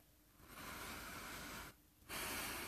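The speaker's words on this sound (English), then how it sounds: "So I'm going to take that time to take some deep breaths." A person takes slow, deep breaths during a calming pause: a long airy inhale, a short quiet gap, then another breath, soft and close with no talking.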